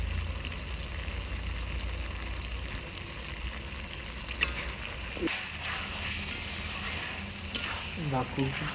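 Chicken pieces stir-fried in a pan for a Bengali chicken kosha, a steady broadband sizzle with occasional scraping stirs and clinks of the spatula, close and continuous throughout.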